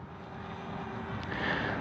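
A Hubsan Ace 2 drone hovers and turns in low light, its whirring motors a steady airy drone heard at moderate distance with light wind noise.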